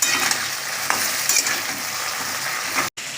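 Hilsa fish fries in hot oil with a dried chilli, giving a close, continuous crackling sizzle with occasional soft utensil taps.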